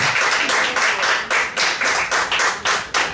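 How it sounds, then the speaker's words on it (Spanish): A small church congregation claps in a steady, rhythmic beat at a Bible study service, crisp hand claps repeating about three times a second, close and loud without speech. "Yo creo que Dios se merece un aplauso por eso"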